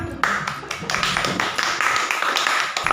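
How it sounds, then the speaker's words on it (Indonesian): Hands clapping in a classroom setting, a fairly steady run of close, sharp claps over about three seconds with no talking. "Ya, tepuk tangan."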